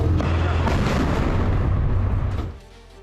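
An Israeli strike on a rocket launcher in southern Lebanon sets off a loud, sustained rumbling explosion that roars heavily before dying away abruptly near the end.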